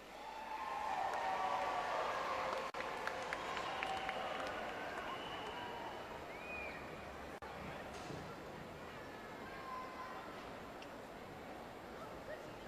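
A large audience claps in sustained, dense applause for a lifetime achievement award honoree at a 2008 event, loud at first and gradually tapering off over about twelve seconds.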